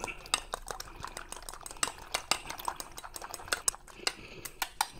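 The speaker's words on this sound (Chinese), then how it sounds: "再就把它搅拌" Salted eggs being stirred in a bowl, a quick run of sharp, close utensil clicks and taps against the bowl, rhythmic and irregular throughout.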